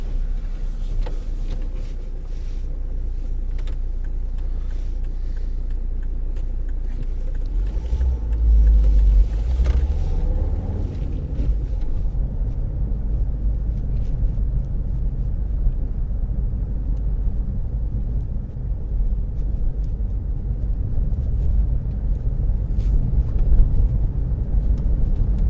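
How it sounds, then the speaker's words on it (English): Road traffic passes while riding in a car through town between Dover and Aylesham, a low engine and tyre rumble with a louder surge as a vehicle goes by, then steady cabin drone. "Oncoming traffic."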